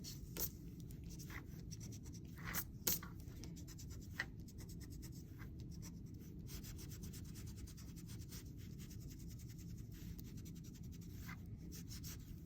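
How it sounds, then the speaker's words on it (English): Pencil marks being erased from a paper color chart, a continuous quiet rubbing and scratching with repeated short strokes and occasional brushing sounds, close and alone. "I'm gonna go back and erase these pencil marks that are in the middle"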